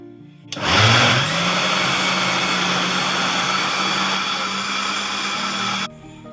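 A mixer grinder whirs steadily as it grinds palappam batter with sugar and yeast. The motor kicks in abruptly, holds one loud, even high-pitched drone for about five seconds, then cuts off sharply, with no voices.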